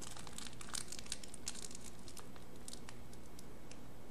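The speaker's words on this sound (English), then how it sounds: "with plastic packets, there's not a lot I can do about the crinkle" Plastic packets crinkle in hand: faint, close, irregular crackling bursts, some brief and sharp, with no voices.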